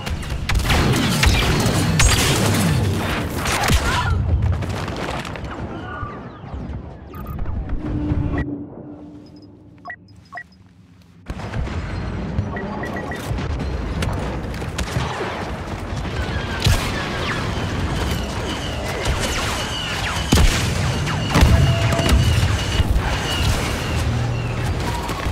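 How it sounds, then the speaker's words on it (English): Artillery fire booms across a Star Wars Battlefront battlefield, with heavy thuds, blasts and crackling gunfire forming a loud, continuous barrage. The din briefly drops to a quieter lull before resuming at full intensity. "Artillery, fire."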